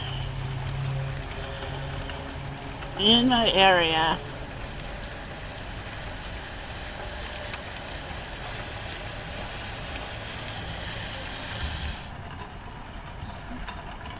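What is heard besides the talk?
hard rain falling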